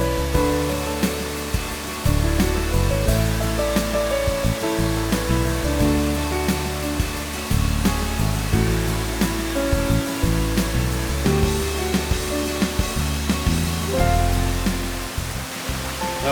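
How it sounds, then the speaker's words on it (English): Indian Creek Falls, a waterfall in North Carolina, roars as a dense, steady rush of falling water close by, with no voices over it. "we made it to our 8th and final waterfall. This is Indian Creek Falls."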